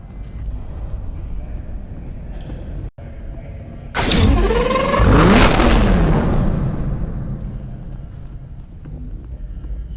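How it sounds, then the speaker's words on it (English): Jaguar XKR with a 5-liter supercharged V8 in the racing game Need for Speed Hot Pursuit, heard as a loud, sudden engine roar that swells and holds for a few seconds over a steady low rumble, then eases off. "Powered by Jaguar's 5-liter supercharged V8 engine, it is the finest expression of XK power and performance."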